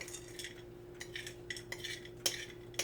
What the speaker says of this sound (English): now I'm going to use my spoon to mix it